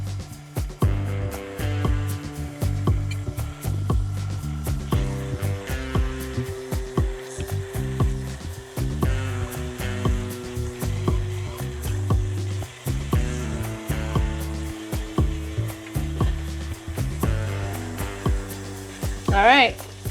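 A stand mixer churns honey oat bread dough for several minutes, a steady motor whine with rhythmic knocking and thumping as the dough slaps around the bowl, loud and close throughout.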